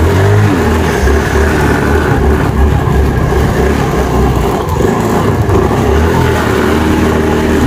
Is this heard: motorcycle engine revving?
yes